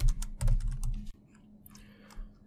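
Bursts of typing on a computer keyboard while writing Python code, clustered quick key clicks in the first second, then sparser, fainter taps alone.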